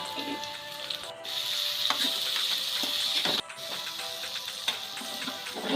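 Green chillies and fenugreek leaves fry in a pan with a steady, close hiss of sizzling oil, broken by a few scraping stirs and light knocks.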